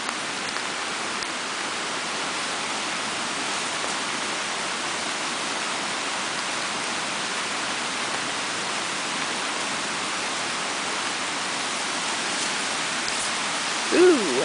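A flooded creek during heavy rain in Duluth, Minnesota, rushing like a waterfall as a loud, continuous broadband roar of water that stays steady throughout, with a brief voice near the end.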